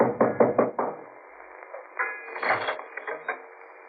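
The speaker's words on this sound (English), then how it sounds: "I knocked for Peterson." Knocking on a door in a radio drama: four quick raps close up, followed by quieter creaks and mechanical rattles, heard without speech.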